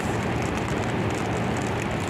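Heavy rain pours down near a flyover on the road to the airport, a dense, constant hiss of drops hitting surfaces, loud and even throughout.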